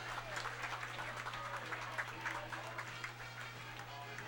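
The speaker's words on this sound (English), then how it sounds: "a nice applause from the stands here" Spectators in the stands at a high school football game applaud in a faint, steady patter of clapping, heard from a distance with crowd murmur and a low constant hum underneath.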